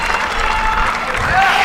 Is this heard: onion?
no